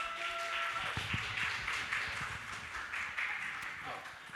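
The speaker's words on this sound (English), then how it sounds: "So let's give a round of applause for Jessica." An audience claps for a speaker at a networking mixer in a theatre, a dense, even wash of applause heard at moderate distance that carries on throughout.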